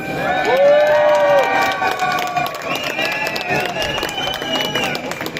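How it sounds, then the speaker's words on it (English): A crowd cheers at a Cardiff May Day union rally for visiting health workers: a loud, sustained mass of shouting voices with whistle-like tones rising above it, steady throughout. "please give them a cheer for their support"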